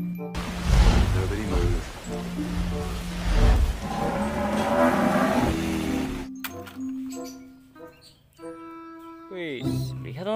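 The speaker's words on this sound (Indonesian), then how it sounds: "Wow, lihat teman-teman, di sini ada kerbau." A water buffalo moos in the video game Jurassic World Evolution 2, with low, loud bellowing calls over the first half followed by quieter tonal game sounds.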